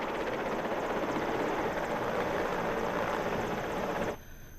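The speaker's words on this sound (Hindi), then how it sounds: "श्रीनगर बांध की नहर से हेलीकॉप्टर ने पानी लेकर प्रभावित क्षेत्रों में छिड़काव किया।" An Air Force helicopter fighting Uttarakhand forest fires, ferrying water from the Srinagar dam canal, drones loudly and steadily with rotor chop close by, then drops off abruptly near the end.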